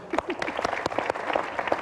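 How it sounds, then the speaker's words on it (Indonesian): Light applause from a small group, scattered claps with some murmuring underneath, fairly close and moderate in volume. "Boleh tepuk tangan."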